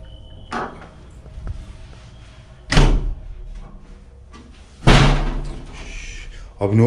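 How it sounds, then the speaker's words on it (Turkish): Indoor doors swing shut, with three loud slams spaced a few seconds apart and a fourth starting as it ends, while someone speaks faintly in between. "Bütün kapılar kapanıyor."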